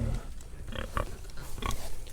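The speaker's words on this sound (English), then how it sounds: "we try to put a long line of feed out for the pigs" Farm pigs grunt and snort as they eat feed laid out in a long line, a close, continuous run of low, rough grunts over a constant rumble of background noise.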